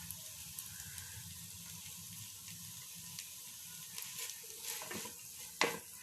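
Chicken egg fried rice with vegetables being stirred and mixed in a pan, with soft sizzling and scraping at close range, faint and uneven, ending in a sharper clatter near the end.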